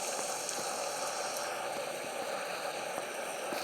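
Steady rain in Euro Truck Simulator, a constant, even hiss with faint scattered ticks, quiet and unbroken throughout.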